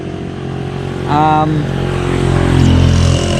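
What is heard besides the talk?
Honda Airblade 160 scooter engine on the road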